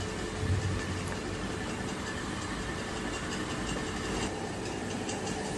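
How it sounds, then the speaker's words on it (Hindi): Bitter gourds (karela) deep fry in hot mustard oil over a medium flame, giving a steady, dense sizzling hiss that holds evenly from start to end with no voices. "अब हमने करेलों को डीप फ्राई करना है"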